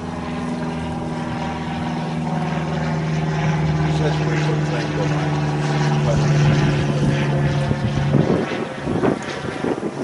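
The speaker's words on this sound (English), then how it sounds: "We get the plane go by." A plane passes overhead outdoors, heard as a steady, droning engine hum under wind noise that holds for about eight seconds before cutting off, followed by scattered nearby sounds.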